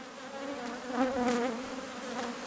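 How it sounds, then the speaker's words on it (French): Honeybees buzzing around a hive of about 40,000 bees, a dense close, steady hum with wavering pitch swelling slightly in the middle. "on est sur une ruche qui a une population"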